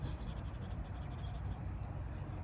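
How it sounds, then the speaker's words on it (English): A rapid, fluttering breath pushed through the nose, driven by belly pumping during a Shambhavi Shunya Mudra practice, heard as a quick, steady pulsing hiss up close with no talking. "It is a flutter breath."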